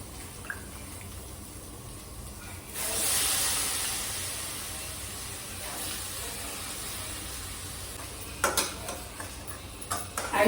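Dry green peas and brinjal pieces tip into a hot pan in oil, setting off a broad, steady sizzling hiss that swells and then holds, with a few sharp clatters near the end.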